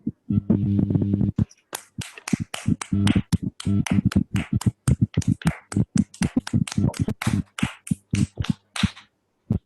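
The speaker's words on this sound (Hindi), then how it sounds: "ध्यान के लिए और हमारे गुरु के लिए खूब अच्छी ताली बजाएं" Audience applause after a guided meditation session, a burst of many hands clapping that settles into steady rhythmic group clapping, fairly loud and close, with no talking over it.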